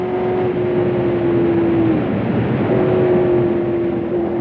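A Ford GT race car engine accelerating along the Le Mans circuit, a loud, steady, close drone whose pitch holds, drops briefly at a gear change midway, then resumes and climbs, with no voices.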